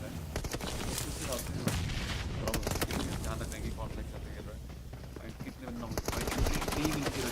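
Rapid bursts of gunfire ring out in a PUBG Mobile esports match, with sharp shots popping in quick clusters and a busy background of game sounds.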